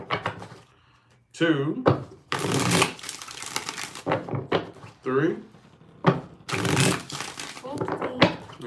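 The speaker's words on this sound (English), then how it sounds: "Let's get 4 shuffles." Tarot cards get shuffled in several bursts with short quiet gaps between them, each a crisp riffling flutter close by, while a voice counts along between the shuffles.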